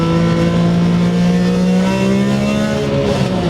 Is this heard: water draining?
no